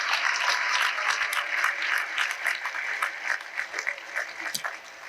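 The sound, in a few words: audience applause for athletics support staff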